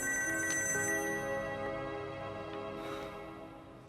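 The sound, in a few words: telephone ringing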